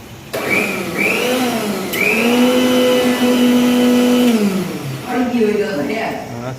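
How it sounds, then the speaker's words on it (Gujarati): A mixer grinder whirs loudly as it blends mint water chutney, its motor pitch rising and settling into a steady drone before winding down, with voices talking alongside. "મિક્સર ચાલુ કરીને હવે એનો રસો બનાવીએ"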